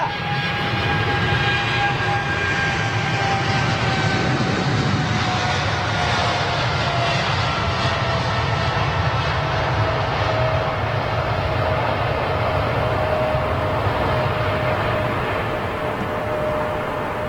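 A jet airliner taking off at London Heathrow on reduced, derated thrust gives a loud, sustained engine roar with a whining tone that slowly falls in pitch as it passes, continuous throughout without talk.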